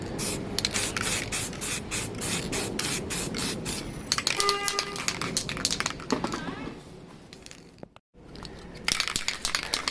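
An aerosol can sprays a light black tack coat onto a Suzuki GSX-R 600 K2 motorcycle part, producing close hissing bursts with short breaks and a brief silence near the end.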